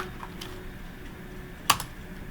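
A few sharp keystrokes on a computer keyboard as a debugger command is typed for a JTAG-debugged ESP32 at an Ubuntu command line, with one louder key clack standing out from quiet room noise.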